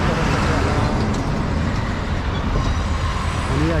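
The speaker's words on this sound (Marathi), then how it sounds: "ह्या 2 मेट्रो डोळ्यावर ऊन येत आहे फार. हे पाहिजे एक मेट्रो" A metro train passes near Yerawada, a steady loud rumble with broadband roar heard close by outdoors, continuous throughout without break.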